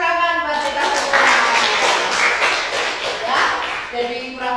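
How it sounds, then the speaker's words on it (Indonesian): Classroom applause from students during a lesson, a brief burst of clapping lasting a few seconds over a busy room with voices mixed in. "tepuk tangan buat kita semua"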